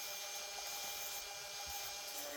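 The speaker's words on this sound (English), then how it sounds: "this little table sander really helped out a lot" Small table sander rounding over the corners of wooden charcuterie boards, a steady, faint abrasive whir with continuous rubbing texture and no talk.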